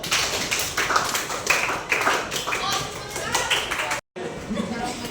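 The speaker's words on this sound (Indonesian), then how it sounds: "Tepuk tangan dulu." A group of children clap their hands together in a classroom during a poetry-writing lesson, a steady run of sharp claps that continues for several seconds, broken by a brief silent gap near the end, with a voice speaking over the clapping.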